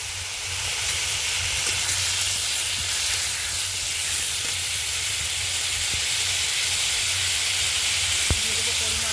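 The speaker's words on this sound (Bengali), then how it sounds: "দিয়ে দেবো কেটে রাখা টমেটোগুলো" Chopped tomatoes and mustard seeds go into hot oil left from frying bata fish, giving a steady, loud sizzling hiss that fills the scene. A few small pops and ticks sound over the hiss, with no talking.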